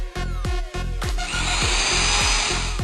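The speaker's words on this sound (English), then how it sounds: "RYU decided to cut it with an angle grinder" Angle grinder cutting steel during sword forging, with several sharp bursts as the disc bites, each dropping in pitch under load, then settling into a sustained, loud, gritty whine.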